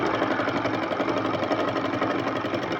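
Electric sewing machine running continuously for a few seconds while stitching a suit neckline, a steady close whirring drone with a rapid mechanical rattle and no pauses.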